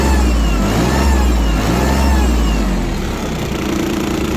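A compact ISEKI TM17 Japanese mini tractor engine revving loudly and steadily close up, its throttle rising and falling slightly with no speech over it.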